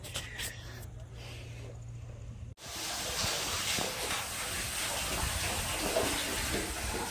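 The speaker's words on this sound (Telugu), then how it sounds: "నీళ్ళు పడుతుంది" Water falling at a lake, after a brief pause a steady loud rushing hiss of pouring water fills the rest of the stretch, no talk.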